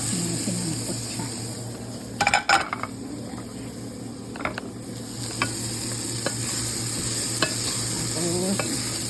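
Chicken frying in its own rendered fat in a pan, with a steady loud sizzle and occasional spoon scrapes and clinks against the metal as it is stirred, close up, no talking.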